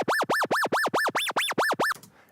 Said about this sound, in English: I have wub high, which is just the higher part